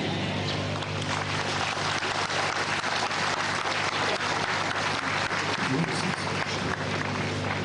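A congregation at a Mass for peace applauds after a prayer, dense sustained clapping filling the space at an even level throughout.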